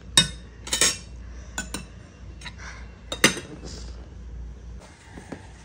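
Metal spoons clink and scrape against plates while rice and mashed hilsa fish tail are served at home, a handful of sharp, bright clinks spaced irregularly with quiet handling noises between.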